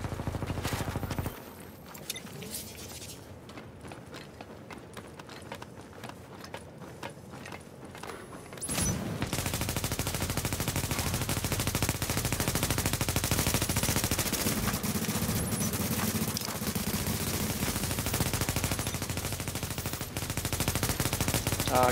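Gunfire in the video game Rogue Chronicles, first sparse sharp shots over a quieter bed, then a sustained loud barrage of rapid automatic fire and explosions filling the rest of the stretch.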